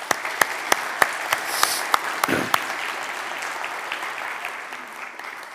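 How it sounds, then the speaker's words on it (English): At a Zcash ecosystem conference, a few scattered individual claps build into a full round of applause from the audience, then gradually fade toward the end. "so I just want to give them a big round of applause."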